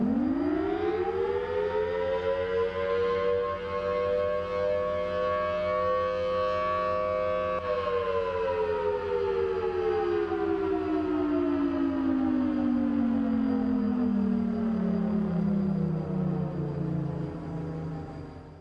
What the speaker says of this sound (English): And here's the siren.